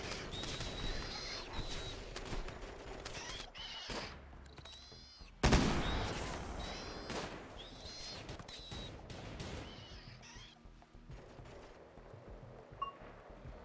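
Rimworld combat with a charged sniper rifle: a string of sharp, fairly quiet shots cracking in an irregular rhythm, one louder blast standing out midway, with small-arms chatter continuing around it.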